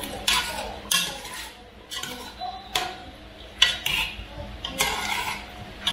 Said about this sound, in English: Just going to stir it now, everything.